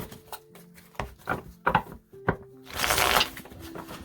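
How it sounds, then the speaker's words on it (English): Tarot cards being shuffled by hand, a run of short papery riffles and taps ending in a louder, denser flurry of card noise near the end. "Let me shuffle them first."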